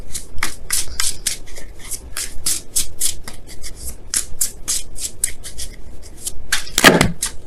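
Tarot cards are shuffled and handled close up in quick, rhythmic riffling bursts with papery flicks, ending in a sharper card snap near the end. No one speaks.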